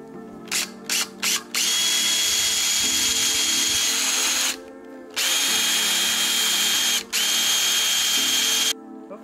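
A power drill whirs in a few short bursts, then runs in two long sustained stretches with a brief pause between, loud and close, drilling mounting holes for a radiator on a car.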